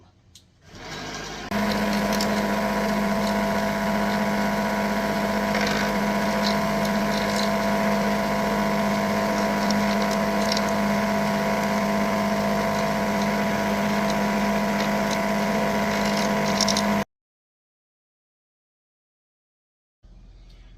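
A brass tumbler cleaning once-fired brass cases runs with a steady motor hum and rattling churn, continuous and close for about fifteen seconds, then silence and a brief return.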